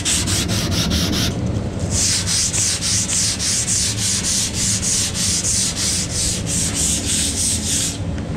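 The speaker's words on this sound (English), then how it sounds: "start sanding." Steady abrasive sanding strokes on a Miata rear wing being prepped for primer and paint, loud and close, rubbing back and forth in a continuous even rhythm with no talking.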